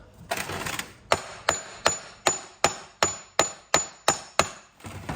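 A hammer strikes a transmission input shaft in about a dozen sharp, evenly spaced metallic taps, each ringing briefly before the next, after a short rustle.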